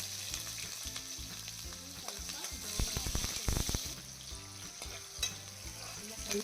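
Chopped onions frying in hot oil for a spicy garlic chutney give a steady close sizzle, with a burst of louder crackling and spatula scraping in the middle as they are stirred.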